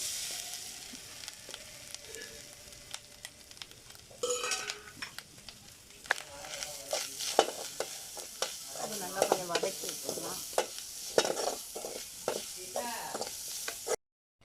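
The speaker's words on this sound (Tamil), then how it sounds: "நெய்யில் வந்து தேங்காவை வந்து வறுத்துட்டு" Coconut pieces frying in ghee, a steady sizzle with a ladle scraping and stirring, spoon and pan clinks growing busier and louder partway through; no talking.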